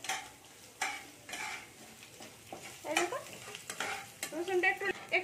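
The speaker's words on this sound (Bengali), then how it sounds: "রসুনগুলোকে আমি ভেজে নেবো একটু" Chopped garlic and curry leaves frying in a pan, with a steady sizzle broken by repeated scraping and stirring strokes of a utensil against the metal, close and clear with no talking.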